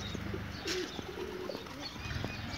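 A pigeon coos in short low bursts at close range, with light chirps and a brief flutter of wings against a quiet background.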